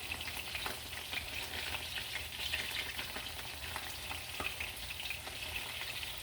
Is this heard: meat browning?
yes